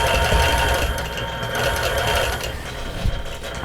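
A sewing machine stitches in the ditch along a China Plate quilt, a steady, loud mechanical whir that runs without a break, with a small bump near the end.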